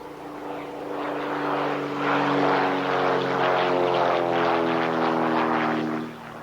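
A propeller spray plane flies overhead during a locust control campaign in Australia, its engine drone rising into a steady, fairly loud harmonic hum for several seconds before fading slightly at the end.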